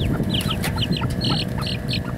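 Small bantam hens cluck and squawk in short, agitated bursts close by, several calls overlapping over a low, steady background rumble.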